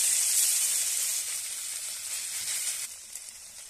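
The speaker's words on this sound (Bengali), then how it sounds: "দেখো দেখো আবারও একটা এইভাবে আমি ভেজে নেব।" Food shallow-frying in a pan, a bright close sizzle and hiss that runs steadily, then eases and turns patchy toward the end, with no voices.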